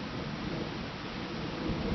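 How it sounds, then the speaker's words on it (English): Deep, steady rumble of rolling thunder in an outdoor thunderstorm, a continuous low roar with rain-like hiss and no distinct crack, fairly quiet and sustained throughout. "It's yet another thunderstorm."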